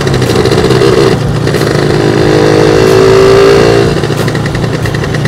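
Suzuki Sport two-stroke motorcycle engine running and revving, a loud, close, continuous buzzing drone with steady harmonics that rise slightly in pitch midway before settling back.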